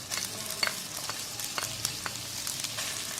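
Ginger and garlic paste frying in a pan for a chicken bread filling, with a close, steady sizzle and occasional scraping stirs.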